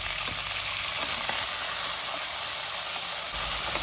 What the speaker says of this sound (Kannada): ರಾಜ್ಮಾ ಕೂಡ ಎಣ್ಣೆಯಲ್ಲಿ ಚೆನ್ನಾಗಿ ಫ್ರೈ ಆಗ್ತಾ ಇದೆ